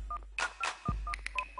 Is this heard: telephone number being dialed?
yes